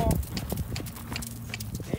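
Hooves clip-clop steadily as a horse is ridden along the rail of an arena during schooling work, a close rhythmic patter running under a speaking voice.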